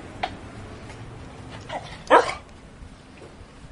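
A beagle barks once, short and sharp, in the morning, with a few faint yips and whimpers before it against a quiet room.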